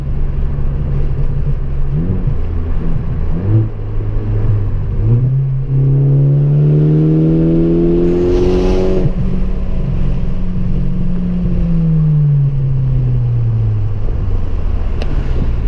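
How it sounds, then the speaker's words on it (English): A 2014 Ford Focus ST four-cylinder engine pulls hard through third gear, its loud, steady drone rising in pitch over several seconds with a brief lift near the midpoint, heard close and alone without talk. "just a little 3rd gear pull. Runs great for a little 4-cylinder."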